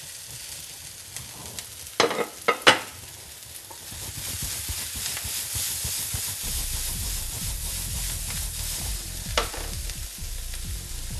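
Sliced courgettes drop into a pan of peppers, carrots and onions, with a few sharp clatters, then a steady sizzle and hiss of frying vegetables being stirred.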